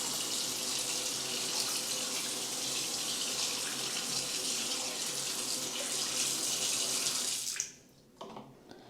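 Water runs steadily from a Damixa Arc kitchen tap, a continuous close hiss of flow lasting several seconds before it abruptly cuts off, followed by a couple of faint drips and small clicks.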